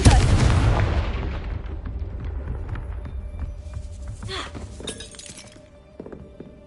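A Confringo blasting spell goes off in Hogwarts Legacy with a sharp, loud burst and crack, followed by rumbling, crumbling debris that slowly fades.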